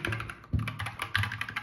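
Soft, quick keystrokes on a white 60% LED gaming keyboard, a brisk run of close light clicks with a few heavier thocks, some presses bunched together, no talk.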